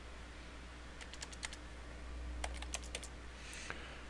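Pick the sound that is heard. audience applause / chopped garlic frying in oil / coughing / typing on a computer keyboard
typing on a computer keyboard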